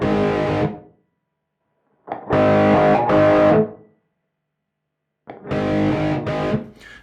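A distorted electric guitar amp tone shaped with a mid-scoop parametric EQ plays in three loud, crunchy bursts of chords separated by about a second of silence each.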